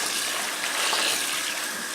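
Collard greens are squished around in a sink full of water, giving a steady, close sloshing and gushing wash of water that continues evenly without any talking.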